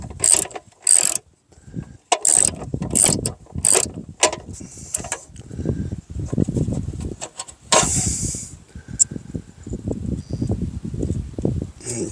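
Vice grips clamp a nut while a bolt is loosened on an old Honda Dream motorcycle, giving repeated metallic ratcheting clicks and clanks in bursts, close by, with no talking.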